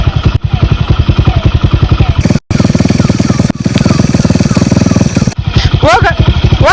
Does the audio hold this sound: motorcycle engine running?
yes